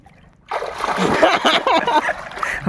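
Water splashes and sloshes close by as someone dives to catch fish by hand, a sudden loud surge after a quiet start.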